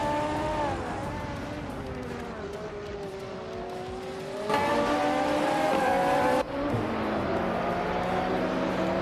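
Ferrari Portofino and other race cars in a racing video game, steady engine drone rising and falling in pitch with gear changes, loud and continuous, with a sudden surge in volume midway and faint tire squeal.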